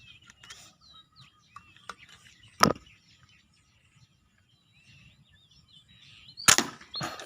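A slingshot fires a test shot at an orange target while birds call outdoors. One sharp, loud snap comes early and a second crack follows near the end, with faint chirps and quiet gaps between them.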